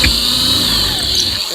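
A power drill runs steadily with a high whine, boring a hole through a cigar box guitar while building a diddly bow; close and loud, continuous for the whole stretch with a slight drop at the end.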